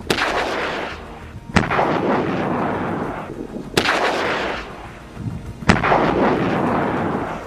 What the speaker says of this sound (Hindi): उसके लड़ाकों ने दक्षिणी गाजा के तल जराब में आईडीएफ के एक सैन्य वाहन पर एंटी टैंक गाइडेड मिसाइल दागी है